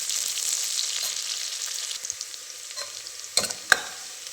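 Chopped medium-size onions fry and sizzle in a pan for ghee rice, a steady bright crackle with a few sharp stirring knocks near the end, no voices.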